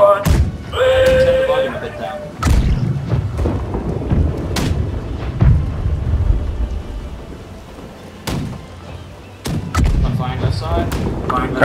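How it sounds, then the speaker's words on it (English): Ship cannons firing in the pirate video game Blackwake, heavy booming blasts spaced out over several seconds with rumbling decay, and voices talking in between. "Left side cannons."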